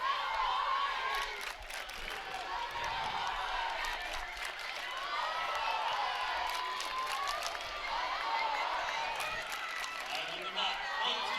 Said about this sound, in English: The crowd is loud here at Golden West.